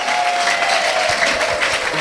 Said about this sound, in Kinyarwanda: Thank you and we clap for you.